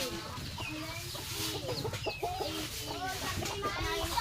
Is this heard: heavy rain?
no